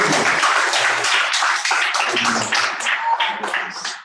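Church congregation clapping during a celebration service, a fairly loud patter of many hands that thins and turns more uneven toward the end, with faint voices mixed in.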